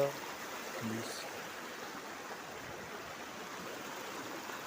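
A steady broadband rush of flowing stream water fills the clip, with a brief voice near the start.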